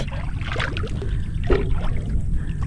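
Aboard a bangka fishing boat out on the water, low wind rumble with soft lapping and splashing against the hull, plus a brief knock, steady and close without talk.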